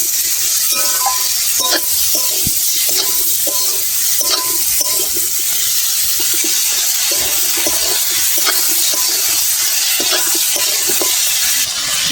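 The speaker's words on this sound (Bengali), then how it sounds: "হলুদ, কাঁচা লঙ্কা দিয়ে ভালো করে আমি এটা নেড়ে চেড়ে ভাজবো" Vegetables stir-fried with turmeric and green chili give a steady, loud sizzle, broken by frequent scraping and clinking as they are turned in the pan.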